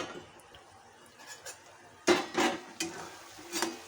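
Potatoes sautéed in a pan for a dry Bombay duck and potato curry, with soft sizzling under several distinct clinks and scrapes of a utensil against the pan, fairly quiet and close.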